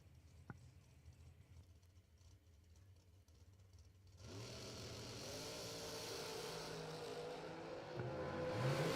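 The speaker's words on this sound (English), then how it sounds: "Bill Maroon's going to be on chase, 453, the Pennsylvania-based dragster." A dragster at a drag racing event launches from a low idle into a sudden loud roaring run that builds and holds steady, heard from a distance over a quiet crowd.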